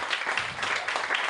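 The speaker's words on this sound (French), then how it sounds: "on applaudit bien fort" Short burst of audience applause at a comedy club show in Réunion, steady dense clapping throughout at moderate level with no talk over it.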